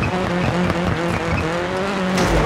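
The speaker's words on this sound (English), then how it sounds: "We got a misfire." A Mitsubishi Lancer Evolution X rally car in the DiRT 4 video game runs with an engine misfire, a loud, steady, rough engine drone with uneven stuttering pulses, close and continuous with no voices.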